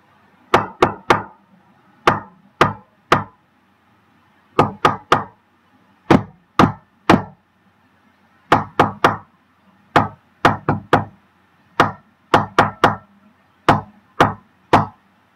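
Fingertips knock on a hard surface, tapping out the rhythm of a song in sharp, dry clusters of two to four hits separated by short pauses, close and clear against near silence, with no talking.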